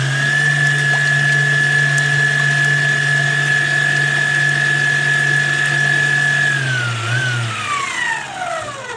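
A machine kneading dough made from water and butter: a loud, steady motor whine with a constant pitch that holds for several seconds, then sags and winds down near the end.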